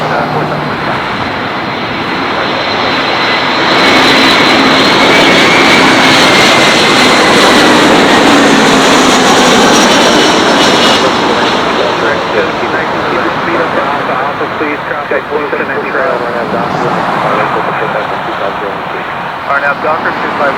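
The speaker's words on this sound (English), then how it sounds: "there's takeoff" Jet airliner taking off from runway 25 right at Los Angeles International Airport: a loud, continuous engine roar that swells and holds with a broad rushing tone, heard from nearby as tower radio chatter plays underneath.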